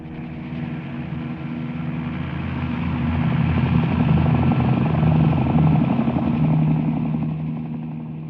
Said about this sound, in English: an entirely new kind of flying machine, the helicopter